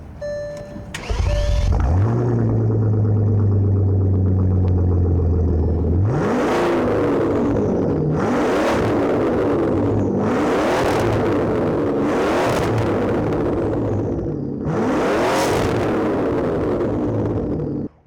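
A 2006 Bentley Continental Flying Spur engine starts, settles into a deep idle, then revs hard several times in loud, aggressive bursts through a throaty new custom exhaust.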